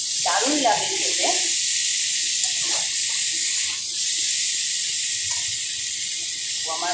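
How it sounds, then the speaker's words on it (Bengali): Whole spices frying in a pan for a fish curry with cauliflower and potato give a steady, close sizzling hiss that runs throughout, with faint voices and small clatters in the background. "আমার মশলাটা খুব ভালো ভাজা হয়ে গেছে।"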